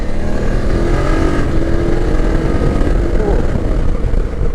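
A 2024 BMW F900 GS motorcycle with a 105 horsepower engine pulls hard under acceleration, a loud, steady engine drone dominating throughout with wind rush and a faint rising tone, no talk over it.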